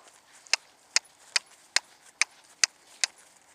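Hooves strike a firm surface in an even, steady beat of about eight sharp clops, a horse trotting nearby with no voices over it.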